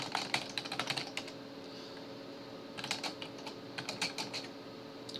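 Computer keyboard typing while writing code in the VS Code editor, with two bursts of rapid, fairly close key clicks and a brief pause between them, no talking.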